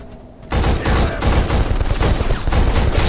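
Loud, sustained automatic gunfire in the first-person shooter Black, set in a town, begins abruptly after a brief quieter moment and continues as dense, rapid shots close up.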